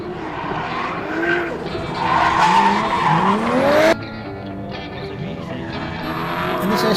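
A drift car with a Toyota JZ engine races at a track event, its engine roaring close by with a rising pitch as the tires squeal and skid, then cutting off abruptly before a lower rumble and more tire noise.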